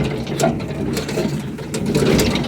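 A hand-turned rotor on a modified grain auger-rotor loader gives a steady mechanical whirring and rattling with faint ratchet-like clicks, continuous and fairly loud at close range.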